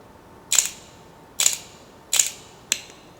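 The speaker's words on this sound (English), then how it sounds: "then you hear a slow shutter speed" A camera shutter fires four times at a slow shutter speed, each release a sharp mechanical snap with a short rattling tail, spaced roughly a second apart in a quiet room.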